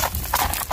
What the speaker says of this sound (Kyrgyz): Бою бийик ат экен.